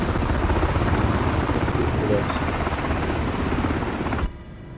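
MH60 Blackhawk helicopter in a hover, a loud, dense rotor and turbine roar that pulses steadily, then cuts off abruptly near the end, leaving quiet.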